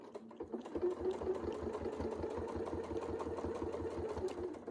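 A quilting sewing machine stitches steadily along a ruler template, with a fast, even needle rhythm and motor hum running continuously at moderate volume, no voices.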